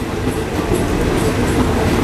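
A train on the Death Railway to Kanchanaburi runs along the rails, heard loud and close from inside the carriage as a steady rumble with rhythmic wheel clacks.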